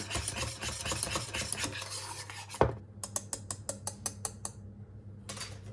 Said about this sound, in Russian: я сняла его с огня и перемешиваю, потому что наша емкость горячая, чтобы оно не пригорело